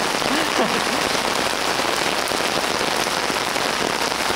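Rain falls steadily at night as a constant dense hiss of drops on surfaces, loud and close, with no one talking.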